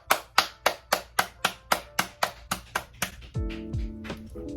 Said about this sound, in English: Let's give her claps